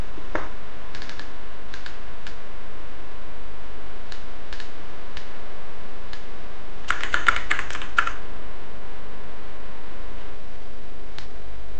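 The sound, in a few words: computer keyboard typing to change slide text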